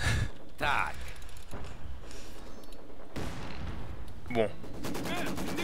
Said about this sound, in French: On essuie des tirs.